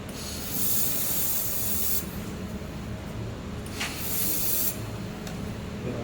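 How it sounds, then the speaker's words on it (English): Air-cooled handheld laser welder doing spot welds, a steady broadband hiss running throughout with two stronger bursts of bright sizzling spray, close and fairly loud, with no voices. "Yes, there is spot welding function."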